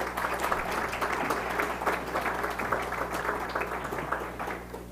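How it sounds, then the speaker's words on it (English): Applause from an audience at a patient panel during an education day, moderately loud, steady clapping over a constant low hum in the room. "So let's give these folks a round of applause."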